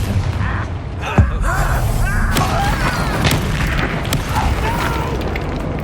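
A Confringo blasting spell goes off in Hogwarts Legacy, one sharp booming burst near the start followed by busy crackling magical combat effects and game ambience, with a voice briefly heard.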